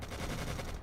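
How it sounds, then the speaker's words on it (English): Rapid machine gun fire in the World War II strategy game Codename Panzers, a dense continuous burst of shots lasting under a second, steady and moderately loud. "It's machine gunners."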